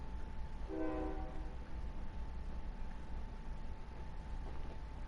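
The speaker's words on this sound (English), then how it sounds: "There go that stupid ass train." A passing train sounding one faint, brief horn blast early on, carried over a quiet, steady low rumble from some distance away.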